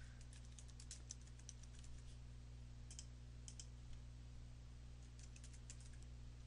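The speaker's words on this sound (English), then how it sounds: "Let's type in tennis elbow and laser into the search bars." Search terms typed on a computer keyboard, several quick bursts of key clicks separated by short pauses, close and clear over a steady low electrical hum.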